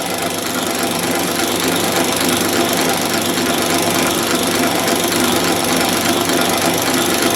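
A 1906 Drummond type B flat bed lathe runs at reduced main shaft speed, giving a continuous rapid mechanical clatter and whir, steady and close, with no talking.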